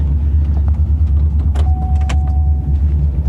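A Chevrolet Impala idles quietly after a cold start, a steady low engine drone. A faint whine and a few light clicks rise above it midway.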